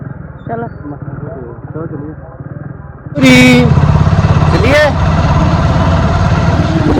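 A motorcycle stuck on a hill road revs hard, its engine roaring loud and steady for several seconds after a stretch of talking, with voices continuing over the noise.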